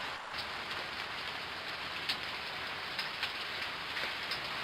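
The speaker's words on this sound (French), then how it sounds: "un orage éclata et la pluie commença à tomber" Heavy rain pours steadily during a storm in a French children's story, a dense, even hiss of drops with faint patter and no voices.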